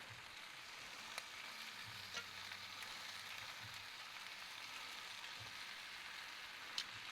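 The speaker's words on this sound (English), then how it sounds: "they are sizzling away like mad." Steady, close sizzling and crackling of chicken wings on a hot Kamado Joe Classic 3 grill, with a few sharp pops standing out over the continuous hiss.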